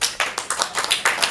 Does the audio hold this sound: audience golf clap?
yes